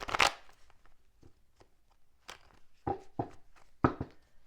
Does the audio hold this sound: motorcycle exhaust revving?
no